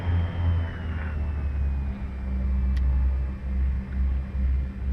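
Steady low engine drone of a Beechcraft G58 Baron aircraft, with a throbbing, pulsing rumble, close and continuous, with a faint high whine above it.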